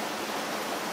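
Babbling stream at the Falls of Dochart in Killin, Scotland: a steady, close, broadband rush of flowing water with no voices.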